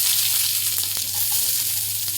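Chopped onion frying in oil with popping mustard seeds, a loud, close, continuous hiss and sizzle broken by a few sharp crackles.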